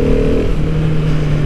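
A Husqvarna 701 Supermoto single-cylinder engine thrums loud and close with a steady, throbbing idle-to-low-rev drone for a brief moment, with no talk.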